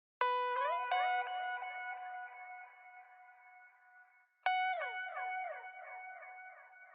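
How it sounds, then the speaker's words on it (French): Two plucked electric guitar phrases in a soul sample ring out, each smeared by repeating delay echoes and a wash of reverb that trails off slowly; no voices. "J'ai ensuite rajouté une guitare avec pas mal de delay et de reverb."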